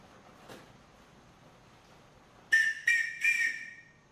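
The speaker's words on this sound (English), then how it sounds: "a whistle to attract attention to yourself" A safety whistle on a powerboat life jacket gives three sharp, loud shrill blasts in quick succession after a brief faint knock and quiet.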